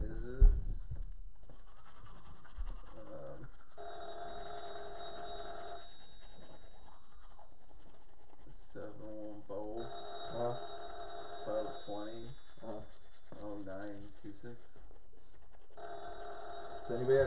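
A telephone rings in repeated bursts, each lasting about two seconds, with short gaps between them. Voices talk over and around the ringing throughout.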